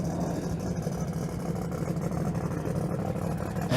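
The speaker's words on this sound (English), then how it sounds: "In the 68 Camaro in the left lane, 959 cubic inches of nitrous huffing" A 1968 Camaro's nitrous-fed 959 cubic inch big-block engine idles at the drag strip with a steady, lumpy rumble that stays loud and even throughout.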